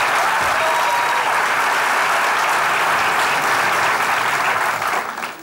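Steady, dense applause from a comedy show studio audience as a guest performer walks on stage, loud and continuous, thinning slightly at the very end.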